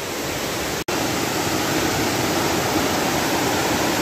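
Chaloem Phra Kiat King Rama IX Waterfall in Betong, a tall cascade with slightly murky water, pours with a steady, full rushing roar, broken only by a split-second dropout near the start.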